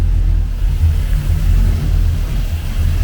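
A Chevrolet square body truck with an LS engine swap and freshly welded intake idles nearby, a loud, steady low rumble that holds throughout with slight pulsing and no talk.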